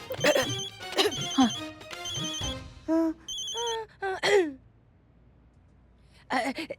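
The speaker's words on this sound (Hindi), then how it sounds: "डीएसपी सर का फोन आ रहा है।" A phone rings with repeated bright electronic ringtone bursts in a police-station drama scene, mixed with voices and a sigh-like sound, then a pause before the ringing resumes near the end.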